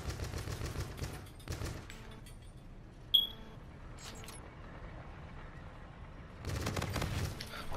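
The Ripper gun fires in a video game in rapid automatic bursts, one near the start and another near the end, separated by a quieter stretch of game noise with a brief sharp chirp.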